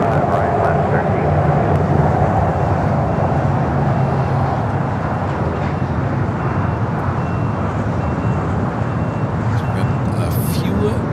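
A Star Alliance Boeing 777-300ER heavy pushes back at LAX, its engines and ground equipment forming a loud, steady roar that holds throughout with little change.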